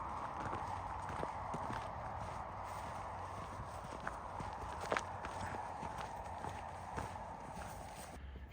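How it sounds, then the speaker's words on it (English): A horse walking over on a Montana ranch, soft scattered hoof clops spread unevenly over steady outdoor ambience, faint and without speech. "Horse is coming over to check out what's going on."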